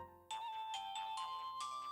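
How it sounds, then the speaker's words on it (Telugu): A phone ringtone in a Telugu film scene plays a quiet, repeating electronic melody of sustained notes, with no talk over it. "నీకేదో ఫోన్ వచ్చిందయ్యా."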